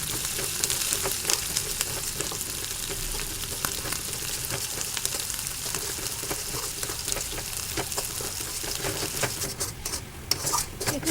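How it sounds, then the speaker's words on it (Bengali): Grated carrots sizzle in a wok while being stirred and scraped, steady frying hiss broken by repeated sharp clinks of a utensil against the metal, close and with no talking. "আমি ঠিক ততক্ষণ গাজরটাকে ভেজে নেব"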